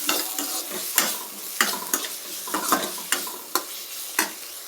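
Paneer gobi manchurian frying in a pan with curry leaves, a steady sizzle broken by repeated sharp scrapes and clinks of a spoon stirring against the pan, close and fairly loud.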